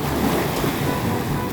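Ocean waves at Kovalam beach, a steady wash of surf mixed with wind buffeting the microphone, close and continuous with no talking.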